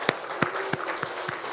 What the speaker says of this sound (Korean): 우리 하나님께 영광의 박수를 한번 올리도록 하겠습니다.